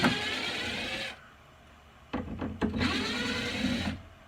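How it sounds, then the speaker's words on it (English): A drill motor whirs steadily at low speed, stops, then after a few short bursts spins up again at a moderate pitch, close by with no talking, during car wiring work. "Always run the drill with a low speed."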